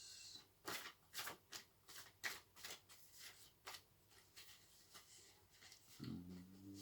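Rapid riffling bursts of tarot cards being shuffled, repeated crisp flutters over about six seconds, ending with a low tonal hum.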